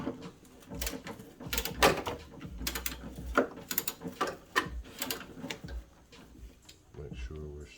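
Wrench clicking and ratcheting while tightening the passenger-side motor mount bolts on a 2013 Dodge Grand Caravan 3.6L, with repeated sharp metallic clicks and clanks in uneven bursts, close and moderately loud, with some low thumps.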